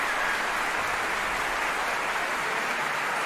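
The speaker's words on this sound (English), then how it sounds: "You gotta love when the conductor themselves applaud." An orchestra concert audience and its conductor applauding after a Ori and the Blind Forest medley, a continuous even roar of many hands clapping, heard at a steady level without voices.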